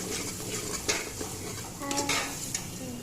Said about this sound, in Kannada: ಈರುಳ್ಳಿ ಚೆನ್ನಾಗಿ ಫ್ರೈ ಆಗಕತ್ತೈತಿ.